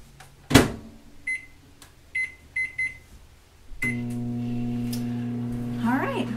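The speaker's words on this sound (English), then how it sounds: "I'm gonna put it in the microwave for 5 minutes" Microwave oven cooking corn on the cob: a door thump and a few keypad beeps, then a steady loud hum as it starts running, with a voice talking near the end.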